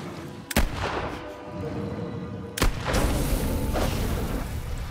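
Two loud, close gunshots in The Quarry video game, about two seconds apart, each a sharp crack over a dense rumbling game soundtrack.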